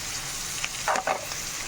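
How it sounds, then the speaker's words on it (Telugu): Chopped onions frying with salt in oil in a pan for an Andhra egg pulusu, giving a steady, moderate sizzle with a couple of brief louder stirring scrapes near the middle. "ఉల్లిపాయలు మగ్గిపోతున్నాయి కదా"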